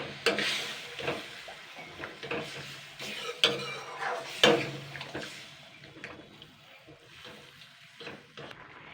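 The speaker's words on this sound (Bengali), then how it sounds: "এবার আমি জল দিয়ে দেবো বাটি ধোয়ার জলটা দিয়ে দিচ্ছি" Water is poured into a pan of spiced papaya curry that is sizzling on the heat, with stirring and scraping strokes over a continuous frying hiss and a sloshing splash partway through, heard close up without talk.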